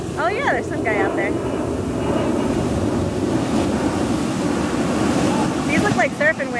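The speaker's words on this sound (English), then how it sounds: "These look like surfing waves." Ocean surf breaks and rolls continuously with heavy wind buffeting the microphone, loud and close, while people talk and call out over it.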